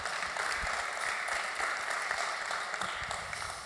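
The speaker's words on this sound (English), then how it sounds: "a round of applause for Miko" An audience gives a round of applause at an art and chess panel event, steady soft clapping heard from a distance and tapering slightly at the end.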